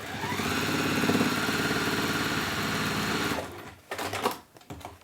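A sewing machine stitching across a hanging shoe bag runs in a steady, fast mechanical whir for about three seconds, then stops, leaving a few soft clicks and handling noises.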